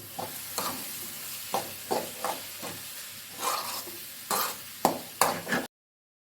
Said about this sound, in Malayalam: ഇനി ഒന്ന് മിക്സ് ചെയ്തെടുക്കണം.